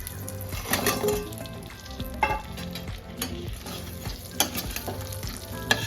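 Chira pitha, flattened-rice cakes, fry in butter in a pan, sizzling steadily while a spatula scrapes and stirs, with clinks and taps rising above the crackle at close range.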